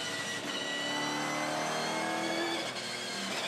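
Dunlop Series race car on a wet circuit: an engine revving and passing at mid distance, a continuous loud rising and falling roar with shifting tones and no talk over it.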